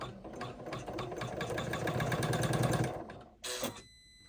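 An embroidery machine stitches a pleat marker for a zipper bag, a steady rapid mechanical chatter running for about three seconds, then stopping with a short burst of whirring after a pause.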